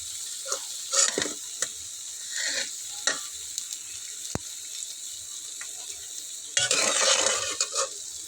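Battered flour-and-vegetable snacks frying in hot oil with a steady sizzle, punctuated by sharp bursts of bubbling and scraping as pieces are stirred and lifted out.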